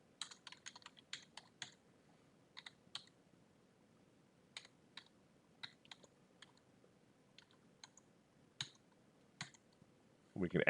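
Computer keyboard typing while entering a customer's name into invoicing software, bursts of quick clicky keystrokes in short runs separated by pauses, close and fairly light, with a louder rustle at the very end.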